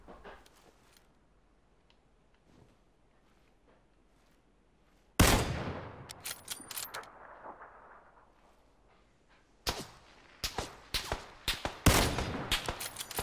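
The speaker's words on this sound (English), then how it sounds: "Shooting blindly right now." Video game gunfire erupts after quiet ambience: a loud blast, then a rapid burst of close shots in quick succession toward the end.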